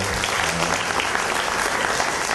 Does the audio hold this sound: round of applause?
yes